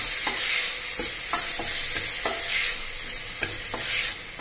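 Garlic, ginger and green chilli fry in a pan for a parboiled-rice meat biryani, a bright continuous sizzle with a dozen or so sharp stirring scrapes spaced irregularly through it.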